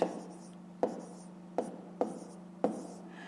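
A pen writes numbers on paper, with five soft taps in an irregular rhythm, each followed by brief faint scratching. Close and quiet, with no talking.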